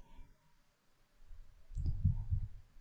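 Keyboard keys are pressed to paste data into statistics software, giving a few soft, close clicks and low thumps that grow denser toward the end.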